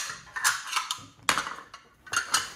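Several sharp scraping and clinking strokes of a knife against a plate or board, irregular and close, with short pauses between cuts.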